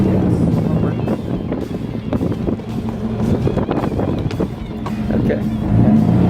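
An off-road vehicle's engine rumbles loudly and unevenly on a rough desert trail, rising and easing as throttle is fed in bursts, with wind buffeting and someone talking over it.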